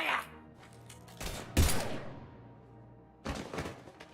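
Gunfire in the video game Mass Effect Legendary Edition: a few loud bursts of shots and thuds, the heaviest near the middle and another cluster toward the end, over a low rumbling game soundscape.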